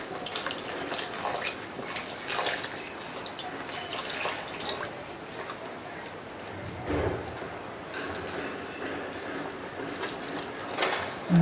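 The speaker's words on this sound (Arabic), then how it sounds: "دابا غنضيف الماء شيئا فشيئا حتى نحصل على" Water is added little by little to a batter dough for Moroccan semolina pancakes, giving soft intermittent dripping and splashing with a quiet mixing texture and some faint talk in the background.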